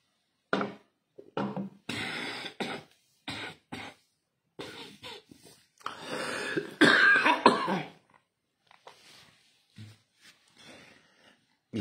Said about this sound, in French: On tousse tous.